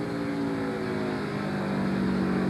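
Todd Bodine's NASCAR stock car runs at about 8,600 RPM during the 1999 Exide NASCAR Select Batteries 400, a loud, steady, high-pitched engine drone that holds its pitch evenly throughout with no voices.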